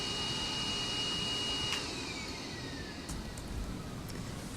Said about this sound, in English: Would you turn that bloomin'